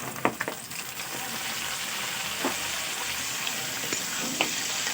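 Chopped bitter gourd and potato hitting hot oil with fried onions, a steady hissing sizzle throughout, with a few sharp clicks and scrapes near the start as the pieces go in and are stirred.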